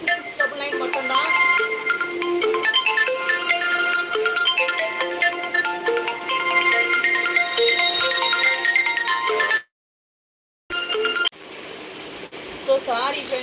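An incoming call sets off a loud, melodic phone ringtone that repeats steadily for several seconds, breaks off in a short silence, and then returns more faintly.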